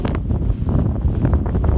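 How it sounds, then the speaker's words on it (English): Strong winter wind in the Eastern Sierra mountains buffets the microphone in loud, uneven gusts, a constant low roar with no voices. "Oh, it's so freaking windy now"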